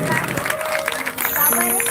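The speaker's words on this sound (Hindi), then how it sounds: "एक बार जोरदार ताली बजाइए" Crowd applauding at an outdoor Ram Katha gathering, with a voice over a dense wash of clapping that swells in the second half and carries on with music.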